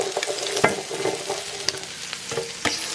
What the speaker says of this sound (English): They're just so much better when you fry them up before you put them in there.